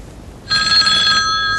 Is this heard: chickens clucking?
no